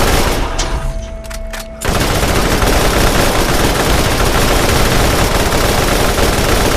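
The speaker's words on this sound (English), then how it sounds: "I can shoot even faster" In the video game Borderlands, a modded gun fires bursts of extremely rapid gunfire, a few quick shots first, then a loud, unbroken automatic stream that fills the rest.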